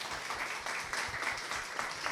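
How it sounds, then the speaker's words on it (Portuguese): Audience applause at a Portuguese-language motivational lecture, a steady wash of many hands clapping at moderate level, continuous and fairly distant, with no clear voices over it. "Só de palmas para o Juliana, por favor."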